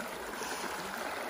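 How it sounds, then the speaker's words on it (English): River water rushes and splashes continuously at close range as someone rinses their face at the water's edge in the woods, with no voices over it. "So she's gonna get some water to rinse her face."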